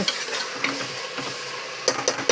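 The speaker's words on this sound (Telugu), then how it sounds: "ఇగో ఉల్లిపాయ మగ్గుతుందండి" Onions softening in a hot pan, a continuous close sizzle with a few light utensil clinks toward the end.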